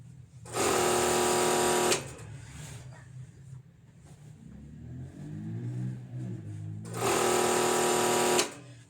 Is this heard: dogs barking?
no